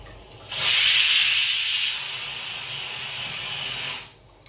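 A pressure cooker lets out a loud, steady hiss of steam that starts abruptly, holds for about three seconds, eases slightly, then cuts off, close and alone in a home kitchen.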